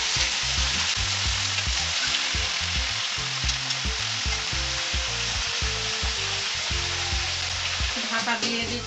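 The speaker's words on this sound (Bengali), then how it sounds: "এবার আমি একটু নাড়াচাড়া করে" Fish head and Malabar spinach being stirred in a frying pan over a high gas flame, a steady loud sizzle with repeated scraping and stirring bursts running through the whole stretch.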